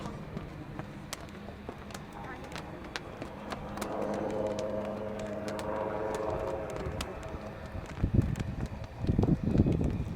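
An LCH light combat helicopter manoeuvring at the Aero India 2019 airshow, a steady distant rotor and engine roar under wind noise, swelling in the middle and ending in louder gusty rumbles.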